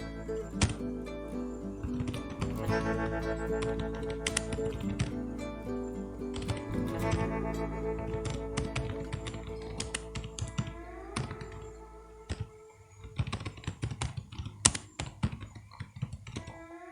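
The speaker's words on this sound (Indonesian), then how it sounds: "langsung saja kita mulai mengetik data sumbernya" Data being typed into an Excel spreadsheet on a computer keyboard, with rapid, dense keystrokes and occasional sharper key taps, running on steadily before easing into sparser clicks near the end, alongside a faint tonal background hum.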